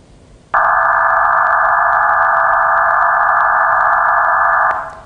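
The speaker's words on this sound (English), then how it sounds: "And this is what the modem tones sound like." Loud digital radio modem tones burst in abruptly as a dense, steady band of hissing multitone data sound, holding constant for about four seconds before cutting off, with faint background noise around it.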